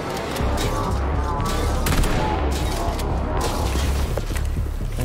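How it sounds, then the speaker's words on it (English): Shotgun blasts in the video game Atomic Heart, booming in rapid succession amid dense combat noise and crashing mechanical sounds, loud and continuous throughout. "So this is why I have a shotgun."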